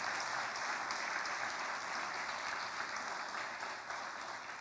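A church congregation applauds after a sermon, giving steady, dense clapping that fills the space evenly for several seconds, with no speech over it.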